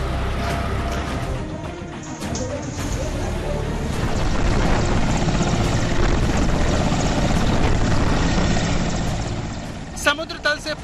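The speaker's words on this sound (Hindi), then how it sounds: "सेना के हेलीकॉप्टर मैदान में" Army helicopters flying over a disaster zone high in the mountains, rotor and engine noise forming a steady loud drone throughout under a voice talking, with a few sharper bursts near the end.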